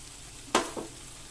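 A paste of cumin and white and black mustard seeds hits cooking vegetables for a drumstick flower dish, giving a sharp close sizzle that fades quickly, followed by a smaller second burst.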